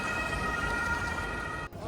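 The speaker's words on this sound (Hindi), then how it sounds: "लगता है कोई इमरजेंसी हो गई है, so all the ambulance siren आप लोग सुन रहे हैं" Ambulance sirens wailing along a city street in Cologne, a steady loud tone with traffic noise beneath, cutting off briefly near the end.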